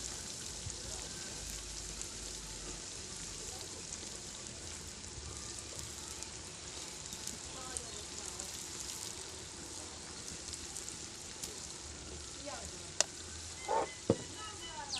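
Sautéed tomatoes with red chili fry in a pan for potato pea rice, giving a faint, steady sizzle with a few sharp clinks of a utensil near the end.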